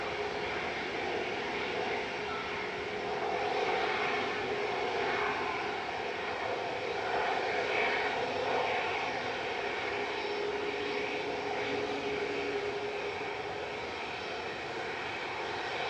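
An Etihad airliner on short final into Manchester Airport gives a steady, loud broadband engine roar that swells slightly midway and holds for the whole stretch, with no voices over it.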